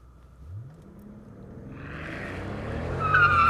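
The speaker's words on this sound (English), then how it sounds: "Okay, little wheel spin." A Mercedes-Benz CL65 AMG launching from a standstill with a little wheel spin: engine note rising steadily from a low rumble, with a faint tire squeal near the end, heard alone.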